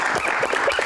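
An audience at a comedy Q&A event gives brief, dense applause, steady and fairly close throughout.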